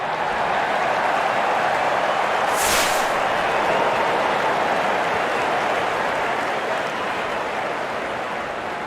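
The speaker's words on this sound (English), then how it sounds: "There's such a wonderful crowd in to watch their favorite players." Steady crowd applause and roar fill a packed stadium at a Real Cricket video game match, a continuous broadband wash with a brief louder swell near the third second, no voices standing out.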